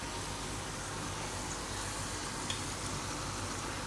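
Urad dal and chana dal frying in very hot oil in a Gujarati home kitchen, a steady faint hiss of sizzling with a single small pop near the end and no voices.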